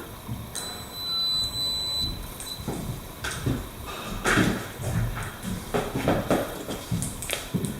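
A high, steady electronic multimeter continuity beep sounds once for about a second and a half, followed by faint shuffling and handling noises.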